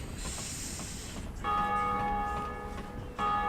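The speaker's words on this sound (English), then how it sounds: "We're going to ring our first Bell of Awakening." The Bell of Awakening tolls in Dark Souls Remastered, struck twice with loud, ringing metallic strikes that hum and fade slowly between them.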